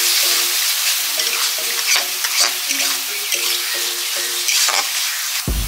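Onion, turmeric, chilli and cumin powder with ginger-garlic paste sautéing in a pan for an egg curry, a loud close sizzle broken by rhythmic scraping stir strokes throughout, ending abruptly.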